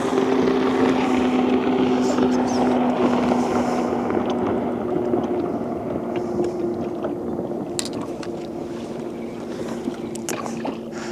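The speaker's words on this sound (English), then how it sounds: "Got a jet skier in the background." A jet ski engine drones steadily in the background on a lake, a continuous motor hum with wind noise, fairly distant and unbroken throughout.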